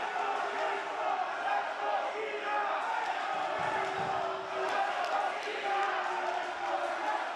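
A divided crowd at a CMLL wrestling event at Thunder Studios in Long Beach keeps up a steady roar of shouting and cheering, with scattered chants and bursts rising over a constant background din.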